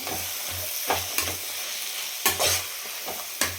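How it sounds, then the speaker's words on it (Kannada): Tava pulao being stirred in a hot pan, with a soft steady sizzle broken by a rhythmic run of scraping, clattering strokes as the rice is mixed, close and fairly quiet. "ಈಗ ಇದನ್ನೆಲ್ಲ ಚೆನ್ನಾಗಿ ಮಿಕ್ಸ್ ಮಾಡ್ಕೊತೀನಿ"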